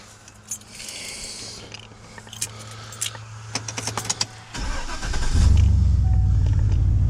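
Keys jingle and clicks sound, then a 2004 Chevrolet 2500HD pickup's 6.0 gasoline engine, at 195,000 miles, cranks and starts, settling into a loud, steady low rumble at idle.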